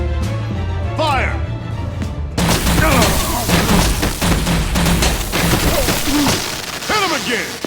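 Gunfire and heavy impacts in the Batman Telltale Season 2 video game, a loud sustained barrage of bursts and booms mixed with shouting voices and a music bed.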